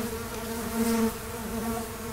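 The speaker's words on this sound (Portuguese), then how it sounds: "A ameaça fica só no barulho mesmo. Estamos falando das abelhas sem ferrão." A steady, close insect buzz with a droning hum that swells briefly in the middle, continuous throughout with no voices.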